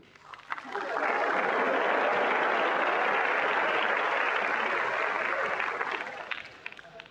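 A Hong Kong stand-up comedy audience breaks into applause, dense clapping that swells quickly, holds for several seconds, then tapers off.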